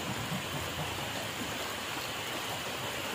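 Steady rain falling outdoors at night, a dense even hiss of drops with no voices and no breaks.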